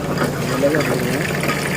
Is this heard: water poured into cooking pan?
yes